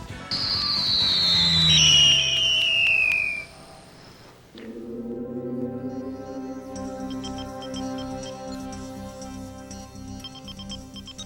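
A wooden yo-yo screams as it is thrown, a high shrill screech descending in pitch for a few seconds, then cutting out and giving way to a lower droning hum with ticking.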